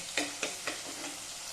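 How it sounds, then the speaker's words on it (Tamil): Small onions sauté in a pan for Andhra-style gongura pulusu, giving a steady close sizzle with three quick scraping stir strokes near the start. "இந்த சின்ன வெங்காயம் ரொம்ப வதக்கக்கூடாதுங்க. கொஞ்சம் மீடியமாக வதக்கினா போதும்."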